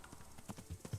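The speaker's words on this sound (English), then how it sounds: "It's so good to be able to just fucking whistle and have a horse turn up" A summoned horse arrives in the video game Kingdom Come: Deliverance, its hooves clip-clopping in a quick, uneven series of soft thuds at moderate distance.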